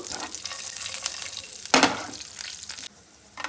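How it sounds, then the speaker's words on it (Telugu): Cashews and raisins frying in ghee for makhana kheer, a close sizzle with stirring scrapes and one louder clatter near the middle, then a short quieter gap, with no talk. "నెయ్యి వేసుకొని ఫస్ట్ కొంచెం మనం కాజు కిస్మిస్ వేయించుకున్నాం, డ్రై ఫ్రూట్స్ వేయించుకున్నాం"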